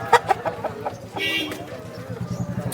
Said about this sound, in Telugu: మెట్టవటానికి సంబంధించినటువంటి కోడిపుంజు